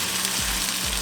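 Vegetable patty filling sizzles and fries in a pan as it is stirred, a steady bright crackle with soft scraping strokes of the spoon roughly twice in the moment, close up and without talk.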